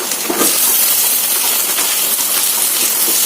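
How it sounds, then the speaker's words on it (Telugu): Onions fry in hot oil for an ivy gourd curry, a loud, steady close-up hiss and sizzle with no pauses. "ఉల్లిపాయలు ఇలా వేయించండి కదా"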